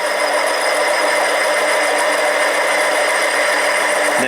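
Harbor Freight 7x10 mini lathe machining an aluminum tube, a steady loud whirring motor hum with a thin high cutting whine, continuous and close, briefly changing at the very end.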